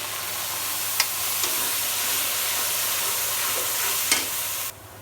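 Ground paste of green chili, onion, cumin and garlic fries in a hot pan, a steady broadband sizzle with a couple of sharp clicks of a spoon, running evenly for several seconds before cutting off abruptly near the end.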